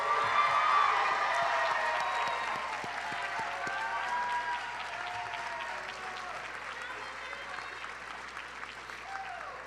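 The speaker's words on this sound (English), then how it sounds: "Let's give them one more round of applause." A large crowd applauds the Brunswick County Schools Class of 2024 mid-year graduates, sustained clapping with some cheering and voices mixed in, loudest at first and slowly easing off.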